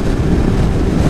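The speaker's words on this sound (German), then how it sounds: "aber es ist krasser Wind." Strong wind roars and buffets the microphone on a naked motorcycle ridden at around 230 km/h, a dense, steady rumble with no pauses.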